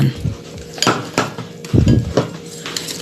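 Bibingka batter mixed with water in a bowl produces a few sharp, irregular clinks and scrapes of a utensil against the bowl, close and fairly loud, with quiet gaps between strikes and no speech.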